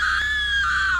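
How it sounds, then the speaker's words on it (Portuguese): A woman lets out a single sustained, high-pitched scream in an AI-generated horror story, loud and steady throughout with no speech over it. "Ela gritou,"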